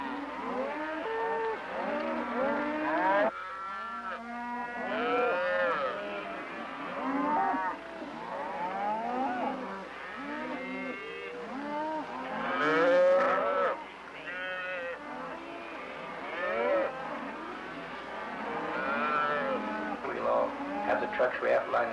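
Cattle herd of cows and calves moos and bawls repeatedly, many overlapping calls near and far, with someone talking over them.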